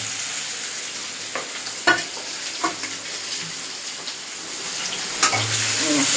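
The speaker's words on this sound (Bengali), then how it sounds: "নাড়াচাড়া করে পেঁয়াজটা একটু লাল ব্রাউন কালার হলেই" Onions fry in a kadai and get stirred, a steady sizzle with a few sharp scrapes and knocks of the spatula against the pan.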